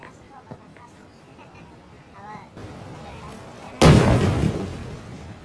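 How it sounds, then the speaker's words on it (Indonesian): A sudden loud bomb blast erupts after several seconds of quieter background sound and low voices, then a broad rumbling roar continues, from a World War II film. "Ketika mendengar kembali ledakan bom"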